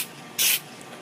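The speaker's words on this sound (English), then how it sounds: "Then obtain some webbing spray from any of your local Hobby Lobbies" A craft webbing spray can lets out one short, sharp hiss lasting about a fifth of a second against a quiet room.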